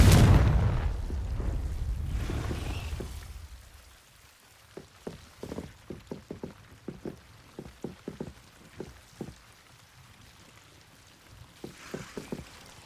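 A loud blasting burst from the Confringo spell in the game Hogwarts Legacy, fading over a few seconds, then a string of light clicking taps.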